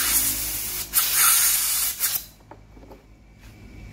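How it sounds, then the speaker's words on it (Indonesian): Compressed air blasts onto a disassembled engine part in loud, close, hissing bursts with brief dips between them, then cuts off into a quiet room with faint knocks. "tembak pakai angin seperti ini."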